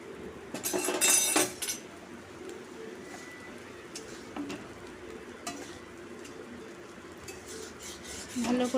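Spice masala being stirred and sautéed in a pan for an egg omelette curry: a faint continuous sizzle with intermittent scraping strokes, plus a louder clatter near the start and birds cooing in the background.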